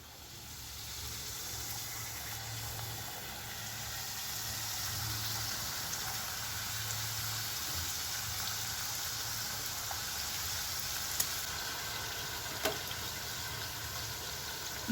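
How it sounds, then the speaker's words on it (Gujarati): Masala puris frying in oil over a low flame, a soft, steady sizzle and bubble that holds for the whole stretch, faint and close, with a couple of tiny clicks and no talking. "હવે આ પૂરીઓ તળવાની ચાલુ કરીએ છીએ"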